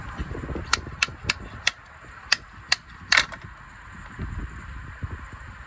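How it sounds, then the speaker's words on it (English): A slide hammer on an injector puller strikes sharply about eight times in an uneven rhythm, pulling a fuel injector from a BMW N43 engine; the metallic knocks are close and distinct over a low background rumble. "The injector puller is threaded on, and now it's basically a slide hammer. So I'm just going to slide hammer it out."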